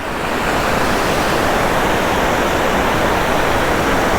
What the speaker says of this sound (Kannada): ಈ ನೀರು ಡ್ಯಾಮಿಂದ ರಿಲೀಸ್ ಆಗಿರೋ ನೀರು.